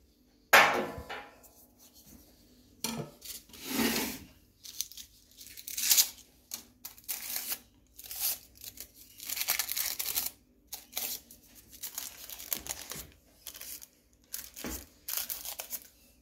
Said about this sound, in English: Let us see how well the knife can cut the rolling paper.